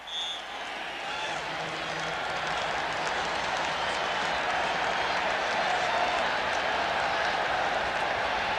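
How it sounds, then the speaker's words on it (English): A large indoor stadium crowd roars steadily in the Kingdome during a 1989 Phoenix–Seattle NFL game as fans try to start the wave, a dense continuous wash of cheering and clapping that swells slightly toward the end. "they're trying to get the wave going here in the Kingdome"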